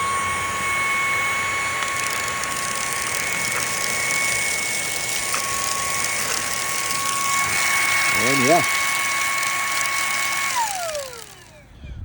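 A Fanttik handheld car vacuum running on max setting sucks up rocks from a driveway, a loud steady whine with faint rattling pickups, then the motor spins down near the end; a brief voice is heard.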